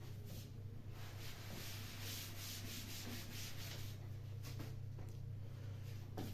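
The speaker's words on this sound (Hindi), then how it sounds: "मैं रब कर रहा हूं।" Steady rubbing of an eraser or duster across a classroom board during a physics lesson, a continuous close scrubbing texture with faint strokes and low room hum, no talking.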